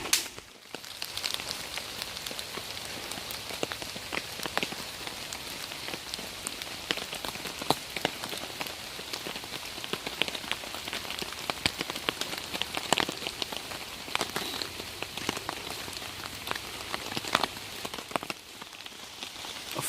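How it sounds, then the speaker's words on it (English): Heavy rain pelting a lightweight tarp at a wild camp, a dense steady patter with sharper drips hitting the sheet close by, continuous and unbroken throughout. "Totally chucking it down."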